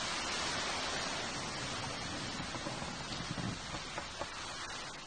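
Some 7,000 cubic metres of stone tumble down a gorge bank onto a highway between East Cape regions in New Zealand, flattening a road barrier. A steady, dense rushing roar with low rumble and scattered cracks continues throughout, with no talk.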